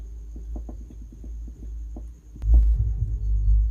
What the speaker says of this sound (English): Now let's check with the JBL 12-inch subwoofer.